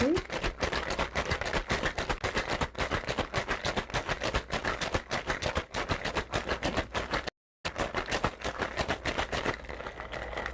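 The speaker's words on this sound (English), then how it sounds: "So we'll give it a little shake." A martini is shaken hard in a cocktail shaker, producing fast, loud rhythmic rattling of ice that runs almost continuously, with one brief gap before the shaking resumes.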